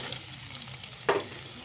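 Chopped onion dropped into hot oil already holding bay leaves and nigella seeds, a low steady sizzle broken by a short, sharper hiss as the onion goes in.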